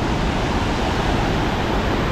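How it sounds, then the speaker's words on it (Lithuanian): The powerful Giessbach waterfall roars as a steady, dense wash of rushing water, close and loud without a break. "Krioklį, Gizbacho vadinasi"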